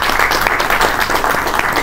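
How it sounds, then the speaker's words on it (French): Conference audience applauding at an African intellectual gathering, a steady dense patter of hands clapping throughout at even loudness. "On va l'applaudir aussi."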